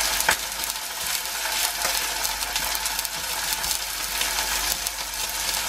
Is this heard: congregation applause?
no